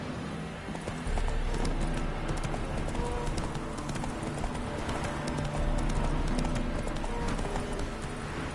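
Geralt's horse Roach gallops in The Witcher 3, a loud, steady clip-clop of hooves running close and continuous throughout, with a brief quieter moment at the start.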